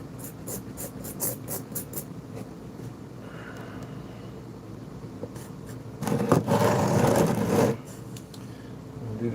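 A small dental tool scrapes and grinds a V notch into a piece of metal, a steady close rasping with a louder, harsher burst of cutting in the middle.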